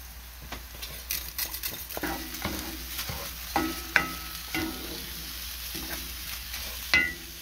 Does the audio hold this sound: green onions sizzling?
yes